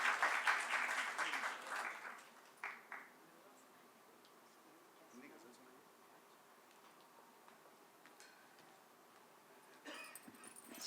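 A poetry-reading audience applauds, with a burst of clapping at the start that fades to scattered claps and quiet, then a brief renewed patter near the end.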